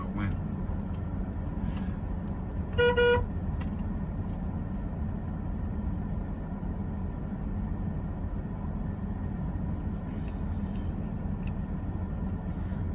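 A car horn gives one short honk while a grass-cutting job goes on, standing out briefly over a steady, loud engine and traffic drone that fills the whole stretch.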